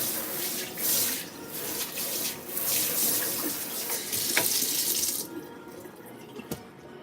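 Water from a kitchen tap runs steadily into a sink as a loud, close hiss. It cuts off partway through, leaving faint drips and a light clatter.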